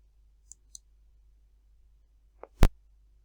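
A computer mouse clicks a few times in a quiet room: two faint light clicks, then a louder sharp click near the end, each crisp and isolated.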